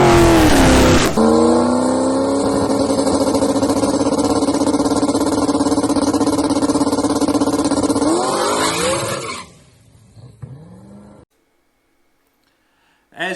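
A drag race car makes a pass down the track, its engine roaring loud and close for about eight seconds before fading fast into the distance and near silence, with a faint rumble at the end.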